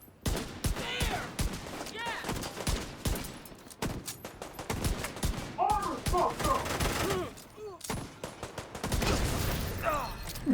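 Rapid bursts of video game gunfire from the Regulus gun, sharp repeated shots in volleys over several seconds, mixed with a player's voice talking and in-game sounds.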